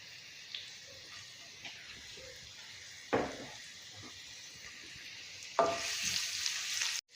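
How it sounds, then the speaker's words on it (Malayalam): Cumin seeds and finely chopped garlic frying in a pan, a quiet continuous sizzle with a few sharper crackles and spatters breaking through, and a louder hiss near the end. "ജീരകം ഒന്ന് മൂത്തിട്ട് അതിലേക്ക് കുറച്ച് വെളുത്തുള്ളി പൊടിയായി അരിഞ്ഞത് ഇട്ട് കൊടുക്കുക"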